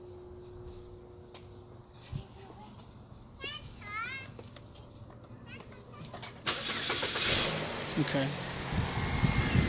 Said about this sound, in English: I'm gonna crank the car.